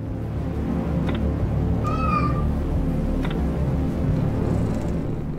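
A cat in the video game Lone Survivor gives a single clear, rising meow midway, standing out over a low steady rumbling background, with a couple of faint clicks before and after.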